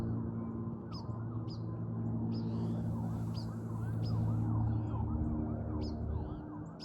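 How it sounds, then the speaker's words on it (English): Distant emergency vehicle sirens in a small town wail in overlapping rising and falling sweeps, with birds chirping intermittently on top throughout. "That's a lot of sirens for a small town."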